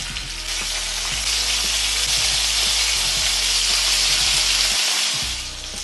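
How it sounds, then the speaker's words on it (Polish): Pieces of pork neck sizzle and crackle steadily in hot fat, a loud, continuous frying hiss with occasional pops and stirring clatter. "Na ten sam tłuszcz wykładam kawałki mięsa."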